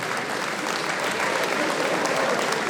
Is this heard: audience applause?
yes